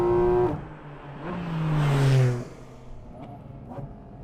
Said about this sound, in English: you get a surge of intake noise about 10 inches from your head